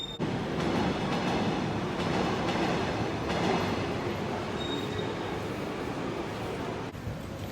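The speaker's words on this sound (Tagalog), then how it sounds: "We're already back at the train station and our train is in like 12 minutes." A train moves through a railway station in the Netherlands, a loud steady rumble of wheels on track with faint high squeals and clatter, continuous and close.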